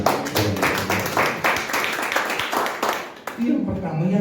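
Church congregation applauding during a Christian sermon, a steady stream of hand claps under and around a voice, fairly close and continuous.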